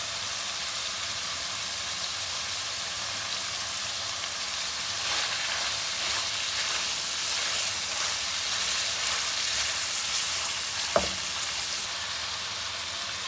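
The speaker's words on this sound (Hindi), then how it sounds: "प्याज के साथ ही लहसुन और सब्ज़ मिर्चें जो हैं वो भी ऐड कर देंगे, ताकि ये अच्छी तरह सारा कुछ इकट्ठा ही भून जाए।" Beef masala sizzles steadily in a pan with onions, garlic and green chillies, a dense close-up frying hiss that holds throughout, with one sharp clink near the end.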